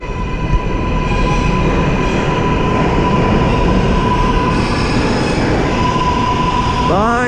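A city commuter train rolls past close by on a rainy day, a loud, steady rumble of wheels and carriages with a rising squeal near the end.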